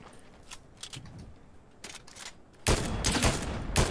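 Rapid gunfire from a video game, with scattered shots early on, then a loud, dense burst of continuous firing that fills the last second and a half.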